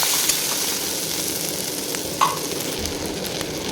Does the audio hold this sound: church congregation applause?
no